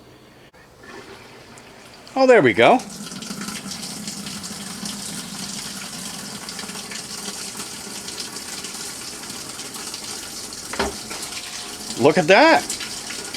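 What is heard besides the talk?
water filling a washing machine connected to a garden hose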